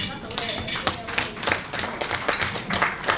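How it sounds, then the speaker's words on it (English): Scattered hand claps from a dinner audience at the ECSACON Kenya Chapter 2022 gathering, uneven and moderately close over a low murmur of the room. "Let us give a round of applause, a better one."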